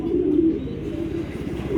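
Young long-distance racing pigeons, hatched in 2023 and kept in the same loft, giving a brief soft throaty coo, close by, with no talk over it.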